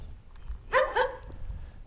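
Dogs bark at night on Lyulin mountain, two short barks close together, moderately near, over a low rumbling outdoor background with no talk.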